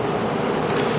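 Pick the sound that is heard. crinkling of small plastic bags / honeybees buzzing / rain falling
honeybees buzzing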